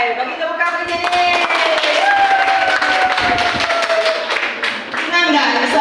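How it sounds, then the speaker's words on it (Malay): An audience claps together at a community health briefing, a steady run of hand claps under music and a voice. "Bagi tepuk tangan bagi ni"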